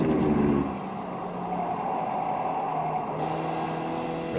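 Race car engine in the iRacing sim at Twin Ring Motegi, a sharp downshift blip at the start, then a steady mid-pitched drone holding close and constant.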